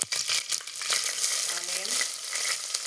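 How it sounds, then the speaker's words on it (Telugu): Mustard seeds and curry leaves fry in hot oil with a dense, continuous crackling sizzle. There are sharp pops and some stirring, close and loud throughout. "ఆవాలు చిట్టుపట్టలు ఆడిన తర్వాత కరివేపాకు వేసుకున్నాం."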